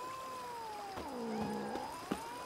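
A cat in The Witcher 3: Blood and Wine meows at night in Toussaint. It gives one drawn-out, wavering meow over steady game ambience, quiet and fairly close, with no talk.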